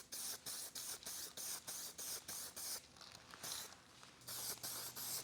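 Spray gun laying down a sealer coat in short repeated bursts, each a loud, near hiss cut off by brief pauses, about a dozen passes in steady rhythm with no talking.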